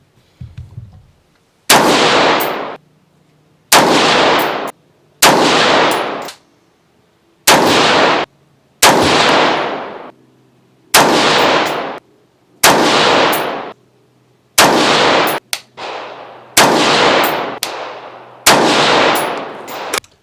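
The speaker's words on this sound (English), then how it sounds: "we've got Hornady 62 grain black line, which will be shot in the... Oh, top left. Top left target." Rifle shots from Hornady 62 grain Black line ammunition fired at a range target, ten loud, sharp cracks spaced roughly two seconds apart, each with a brief ringing tail, and no talking.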